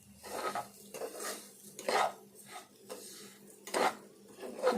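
A spoon scrapes and stirs grated carrot and sugar in a metal pan for carrot laddu, in slow, uneven strokes with faint clanks against the pan, quiet and close, with no talking.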